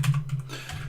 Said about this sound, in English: So you just type that in Google.